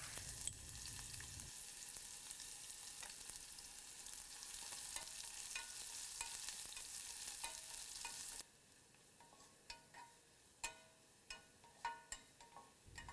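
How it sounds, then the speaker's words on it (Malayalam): Five small onions sauté in hot oil with popped mustard seeds for a Kerala prawn curry. A steady, loud sizzle fills the first part, then it quietens into gentle frying broken by sharp stirring knocks. "ഇതിലോട്ട് നമ്മൾ കട്ട് ചെയ്ത് വെച്ചിരിക്കുന്ന 5 ചെറിയ ഉള്ളി ഇട്ട് വഴറ്റുക"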